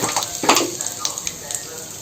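Cumin seeds and asafoetida sizzle in hot mustard oil in a pan, giving a steady faint crackle broken by a few sharper spits and pops.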